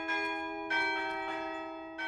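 Bell ringing in the video game Stars In The Trash: a bright, resonant bell strikes three times at a measured pace, each toll ringing out and slowly decaying, with no speech over it.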